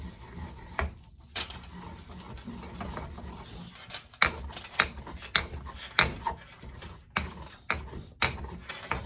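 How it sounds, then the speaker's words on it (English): Herbs being ground into a paste, likely in a mortar, heard as a series of sharp, evenly spaced clacks and scraping strokes in a steady rhythm, close and moderately loud, with no talking. "we are going to make this a paste. Grind it up really, really good."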